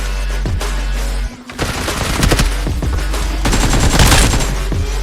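Rapid bursts of automatic gunfire from the BGMI battle royale game, dense overlapping shots with a brief lull before a sustained, loud exchange of fire over a low steady rumble.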